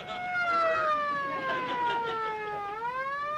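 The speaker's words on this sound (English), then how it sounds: "Why'd you start the siren?" A police siren wails in a smooth rising and falling tone, loud and fairly close, continuous throughout.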